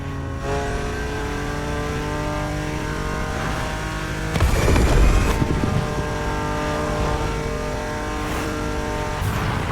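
A BMW Z4 M40i roadster engine in the racing game The Crew Motorfest on a Hawaii scenic drive, droning steadily and loudly, with a brief rougher surge and tire noise near the middle.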